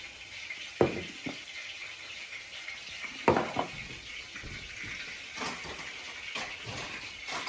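Salmon in olive oil sizzles quietly in a pan, a faint steady crackle broken by a few sharp clinks and scrapes of utensils against the cookware.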